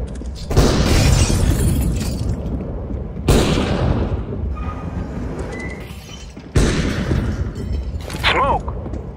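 Grenade blasts in a combat setting: three loud, sudden broadband booms roughly three seconds apart, each trailing into rumbling debris and noise, with faint distant voices and a brief whistling tone near the end.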